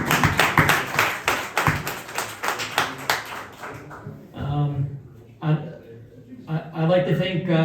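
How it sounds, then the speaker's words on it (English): Clapping at a 50-year reunion for the Hantsport Hawks basketball teams comes as a brief burst of quick hand claps that fades out, followed by someone speaking. "So, round of applause for all of you guys."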